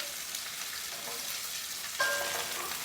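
Vegetables fry in a mix of oil and ghee, a steady close sizzle with a brighter burst as they are stirred partway through, no speech.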